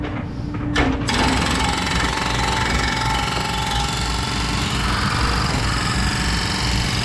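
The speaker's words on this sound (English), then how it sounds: "The old Kubota still going." An old Kubota tractor engine runs steadily during bridge demolition and cleanup work, a loud, close, rattling diesel drone that kicks in after a brief quieter moment and holds constant with no speech.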